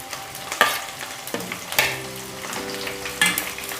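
Bell pepper and onions frying in hot oil for Chinese noodles, a steady close sizzle broken by several sharp stirring clatters and spoon scrapes, with no voices.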